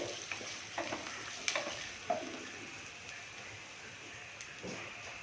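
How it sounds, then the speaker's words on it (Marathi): Turmeric being sautéed with rice in a pan for a raw mango rice dish, giving a soft, steady sizzle with a few scraping stirs and clinks near the start, fairly quiet and without talk. "आता अर्धा चमचा हळद घालणार आहोत आपण याच्यामध्ये हे छान परतून घ्यायचे"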